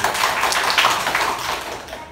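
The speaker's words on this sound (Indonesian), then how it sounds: "Oke, tepuk tangan kita semuanya." A class of schoolchildren claps together in a classroom, a dense, steady patter of many hands lasting about two seconds, close and fairly loud.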